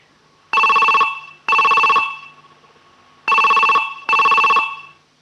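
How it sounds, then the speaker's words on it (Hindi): A telephone rings in two double bursts, a trilling bell tone with short pauses between rings, loud and close. "फिर फोन की घंटी।"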